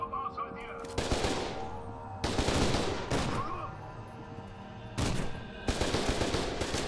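Shotgun blasts in the shooter game F.E.A.R. 2, several loud booming shots in quick succession with short gaps between them, and a voice talking now and then between the bursts.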